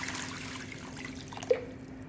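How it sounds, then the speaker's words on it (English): Water poured into a cooking pot holding onion, whole chili, garlic and soy sauce for oxtail, a soft steady trickle and splash at low level with a brief louder splash near the end. "add some more water"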